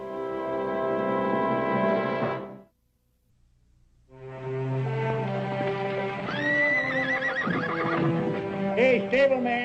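Horses in a stable whinnying loudly and close, two long neighs separated by a short silence, followed by shuffling hooves and further snorting calls.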